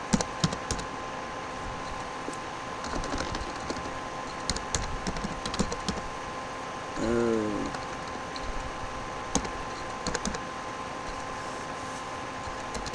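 Computer keyboard typed in short, irregular bursts of light key clicks while a project name is entered, quiet and close over a faint steady hum, with a brief tonal chirp partway through.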